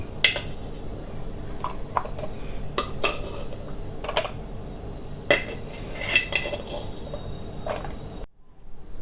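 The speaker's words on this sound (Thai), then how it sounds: "ผมเราก็จะตั้งกระทะเรียบร้อยเราก็จะใส่ เอาหอยลงไปเรียงนะครับ" Clanks and clinks of fresh mussels being laid into a pan for Thai basil mussels at a street-food stall, a run of sharp shell-on-metal knocks close by over a steady background hum, with no talking.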